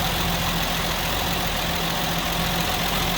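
A 1965 Ford Mustang's stock inline-six engine, about 200 cubic inches, idles steadily, a smooth continuous rumble with a faint hum, close by and unchanging throughout.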